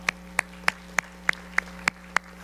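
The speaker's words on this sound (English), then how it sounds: "Come on, clap if you love God." Members of a church congregation clap their hands. Crisp single claps come at a steady, evenly spaced beat, about three per second, against a quiet background.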